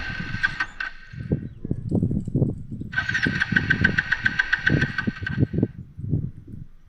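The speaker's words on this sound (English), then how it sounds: "The engine was trying to run, but seemed like its fuel supply was getting choked." A motorbike parked near a forest waterfall cranks and sputters, the engine catching briefly and faltering as if fuel is choked, with repeated uneven chugging bursts and a whining starter, close and fairly loud.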